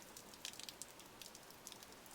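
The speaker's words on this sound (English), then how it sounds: "It was the first rain in a year." Faint, light rain patters softly with scattered drops and a steady gentle hiss, the first rainfall in a year over a city.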